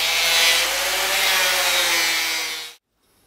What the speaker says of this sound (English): All I've got to do now is get my little Makita grinder out, give it a cut line all the way along there